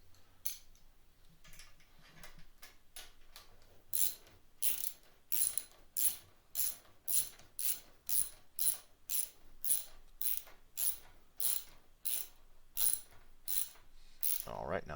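A ratchet tightens a bolt on a strap during an SSR 70C rebuild, giving a long run of steady, evenly spaced clicking strokes, close and fairly loud, with no talk over it.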